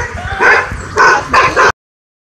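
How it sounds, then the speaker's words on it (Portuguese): A small dog gives a few close, high-pitched yappy barks in quick succession, then the sound cuts off abruptly. "Olha o cachorrinho"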